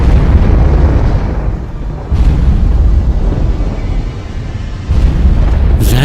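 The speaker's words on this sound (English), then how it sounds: "That makes this the largest single eruption recorded since the Big Bang." A deep, rumbling explosion-like roar depicting a black hole eruption, loud and sustained with surging swells and a sharp burst near the end, no voices.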